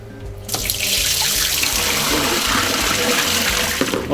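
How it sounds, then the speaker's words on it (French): Tap water runs and splashes into the bowl of a Patamix choux pastry machine, starting abruptly after half a second and pouring loudly and steadily until it tapers at the end, with no voices. "Donc on va prendre l'eau pour mettre dans la machine."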